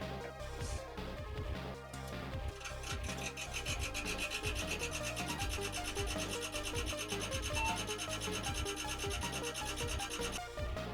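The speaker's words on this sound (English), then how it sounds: "that hideous noise was actually the fan rubbing on the side of the metal on the fan grill" A computer fan's blades scrape against a metal fan grill in a Slot 1 90s DOS gaming PC, giving a loud, continuous rasping buzz with rapid fluttering pulses that fades out near the end.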